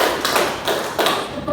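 A group in a counseling session claps hands together in a counted pattern, about four sharp, evenly spaced claps close by.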